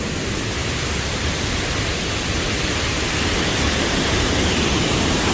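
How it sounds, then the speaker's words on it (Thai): A waterfall in a Laos forest roars as a loud, unbroken broadband rush of falling water, constant and close with no pauses. "น้ำตกในลาว"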